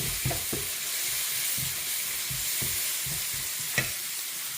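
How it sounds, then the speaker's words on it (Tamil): Radish and onions stir-fried in a pan give a steady close sizzle, with scraping stirs of a spatula at irregular intervals and one sharper clink near the end; nobody speaks. "முள்ளங்கி பொரியல் செய்ய போகிறேன் வெங்காயம் நல்லா பொன் வறுவலாக பார்த்துக்கிட்டேன்"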